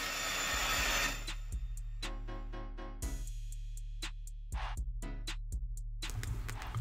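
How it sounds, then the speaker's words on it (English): A store panel saw at Home Depot slices wood boards with a loud whining roar that starts and stops in bursts, separated by sharp clacks and knocks of the boards being handled. "the next clip is just the guy that was slicing the wood"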